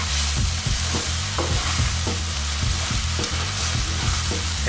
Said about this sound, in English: we want to just keep this stuff moving so nothing gets burnt until most of the liquid evaporates